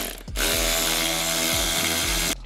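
A power tool whirs steadily and loudly for about two seconds, driving a socket while an intake is fitted to a Dodge Challenger Hellcat Jailbreak, with brief ratcheting pulses in the motor tone and abrupt start and stop.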